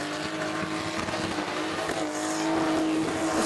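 A little 202 cubic inch six-cylinder red motor with a blower and carburettor, running on methanol, revs hard at a burnout competition in Western Australia, a loud sustained engine roar with tyre squeal close by.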